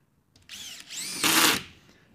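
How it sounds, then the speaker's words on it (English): A drywall screw gun whirs up, revs, then grinds harshly as the clutch slips and disengages, a loud close mechanical rattle that fades out. "you hear that grinding noise, that's the clutch disengaging"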